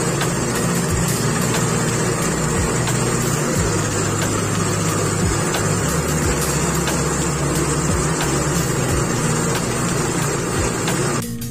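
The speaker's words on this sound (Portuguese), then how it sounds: "acabamos de dar uma voltinha com o trator" Tractor running along a dirt road, a heavy continuous engine drone with rattling and uneven low throbs, loud and close throughout without talk.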